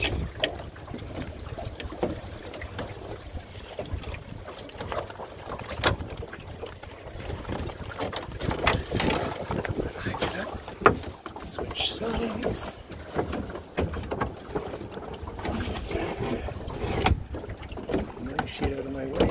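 Drascombe Lugger sailboat under way in a northerly-component breeze near Gan, with steady wind buffeting and water rushing along the hull throughout, and people speaking now and then over the noise.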